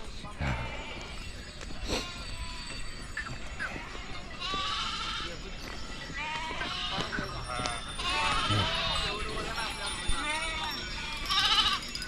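A flock of sheep bleats repeatedly at a village morning halt, many overlapping calls near and far over steady outdoor background and occasional talk.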